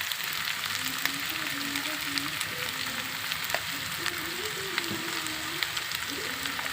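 Dried fish frying in a pan as chili powder is added gives off a steady, dense sizzle and crackle throughout, with faint voices murmuring underneath.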